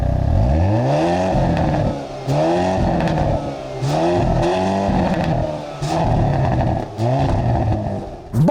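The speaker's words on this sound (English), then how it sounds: "here is the loudest Kona N exhaust level." A 2022 Hyundai Kona N engine revs hard in repeated bursts with its exhaust at the loudest setting, each rising roar followed by a drop, with loud exhaust crackle close by.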